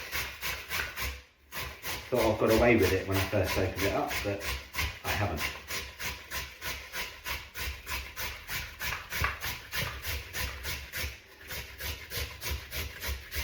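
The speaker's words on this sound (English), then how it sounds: "I'm going to grate it, okay, straight into the mix" A big carrot and strong onion grated by hand straight into a homemade creamy coleslaw mix, a steady run of rhythmic rasping strokes close by, with a person talking over part of it.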